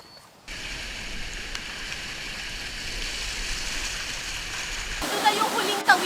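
Rushing water roars steadily nearby, a dense continuous churn of a river current swollen by heavy rain, with a few splashes and louder sloshing near the end.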